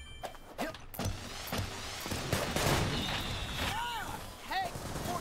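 Fireworks in the video game Sunset Overdrive, a rapid run of sharp bangs and crackling bursts with whistling rockets, mixed with game effects and characters talking.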